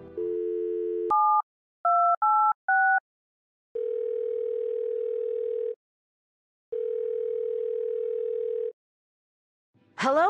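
Telephone dialing in the video game Thimbleweed Park: a dial tone, then a quick run of separate touch-tone beeps, followed by two long steady ringing tones with silent gaps, clean and close.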